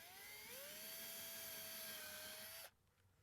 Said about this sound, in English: So what I do is I start off with a 1/8 inch bit. I will start a pilot hole where indicated on the template.